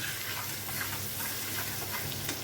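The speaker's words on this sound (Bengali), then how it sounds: "এখন এটাকে একটু ভাজা ভাজা করে নেব।" Butter paneer masala fries in a pan with a steady, even crackling sizzle, moderately close and uninterrupted, with no talking.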